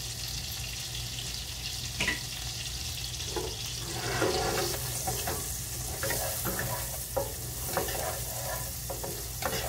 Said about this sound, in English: Cook for a minute or 2 till garlic and ginger start cooking